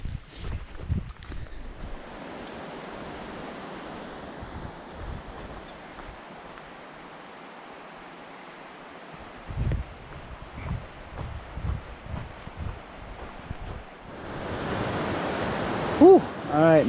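Steady broadband rush of a river flowing at a creek crossing on the Pacific Northwest Trail near Ross Lake, heard close and continuous, with footsteps and brief rustles over it and a louder surge near the end.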